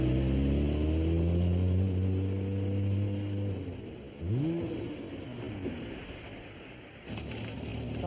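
A car engine idles and runs steadily nearby, a low droning hum that shifts pitch once as it revs, fading and continuing alone.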